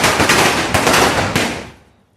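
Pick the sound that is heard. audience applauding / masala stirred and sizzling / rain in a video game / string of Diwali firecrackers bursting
string of Diwali firecrackers bursting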